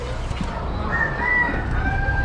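A rooster crows at an Amish poultry and animal auction, a drawn-out call at moderate distance carried over a constant murmur of crowd and barn noise.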